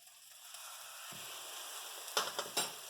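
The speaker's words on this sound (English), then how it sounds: "And then you're going to let it cook until golden on each side." Batter-dipped Texas toast fries as French toast in a pan, a soft, steady sizzle with a few brief louder crackles and bursts near the end.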